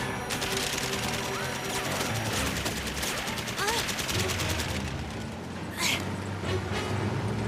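A dense fusillade of gunfire rattles through an animated adventure scene as someone is chased, loud and continuous for several seconds with crashing bursts, and voices shout over the shooting.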